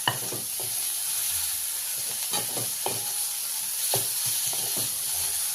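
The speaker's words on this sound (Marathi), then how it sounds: "सोयाबीनला पूर्ण कांदा आणि मसाला लावलेला असं आपण परतून घ्यायचं" Soybeans coated with onion and masala are stirred and sautéed in a pan, giving a steady sizzle and hiss broken by repeated scraping strokes of the spoon, close up with no talking.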